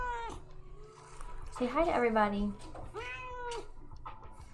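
A cat meows several times close by, a drawn-out wavering call in the middle between shorter ones, while a person speaks softly over it.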